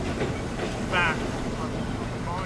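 A railway engine runs along the tracks with a continuous rumbling clatter and a brief high squeal partway through, moderately loud and near.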